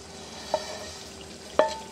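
Fried okra stirred into a tomato masala with green chillies in a pan, giving a steady soft sizzle with two brief clinks of a utensil against the pot, quiet and close, without any voices.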